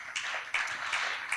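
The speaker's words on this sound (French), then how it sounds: "Sous vos applaudissements, s'il vous plaît." Applause from an audience at a business conference on industrial energy, a dense, steady patter of many hands clapping, held at moderate volume for the whole moment with no voices over it.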